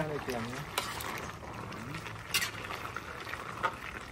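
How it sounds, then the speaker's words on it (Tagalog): A spoon stirs a pot of Bicol Express as it cooks, making soft scrapes and occasional clinks under a steady bubbling hiss while people talk over it. "Haluin natin siya."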